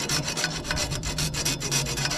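A worn hacksaw with only a few teeth left rasps through a cut at a pond dam repair, loud and close, with fast, steady back-and-forth strokes and no talking.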